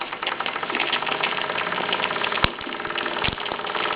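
A Mamod MM2 overtype model steam engine runs steadily, with a dense, continuous mechanical chuffing and rattling and a few sharp clicks, heard close up with no voices.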